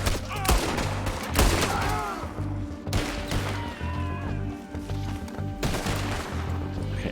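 Gunshots in Red Dead Redemption 2 crack out as several loud, separate blasts a second or more apart, each trailing off into a busy background of game noise.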